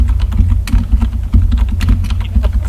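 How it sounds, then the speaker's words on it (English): Fast, dramatic typing on a computer keyboard, a dense, steady rattle of close, loud keystrokes with no talking over it. "Dramatic action typing."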